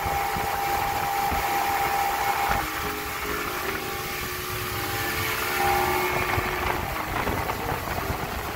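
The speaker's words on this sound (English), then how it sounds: "going to bring her back to idle to show you that right after that nice run, she idles very smooth." A Yamaha 150 outboard on a 2005 Triumph 210 CC boat idles after a run, a steady, smooth mid-level engine hum with a faint whine, continuous and unbroken.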